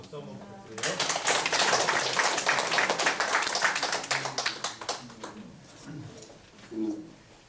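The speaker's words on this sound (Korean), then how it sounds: "박수 한번 부탁드려요." Audience applause at a talk or panel gathering, with dense clapping rising quickly and sustained for several seconds before thinning and fading into scattered claps and murmuring voices.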